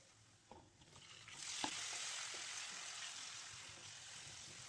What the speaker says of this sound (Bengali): তেলের মধ্যে পেঁয়াজ কুচি দিয়ে নেড়ে চেড়ে পেঁয়াজটা একটু লালচে হয়ে এলে